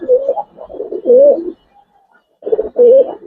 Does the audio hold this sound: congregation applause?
no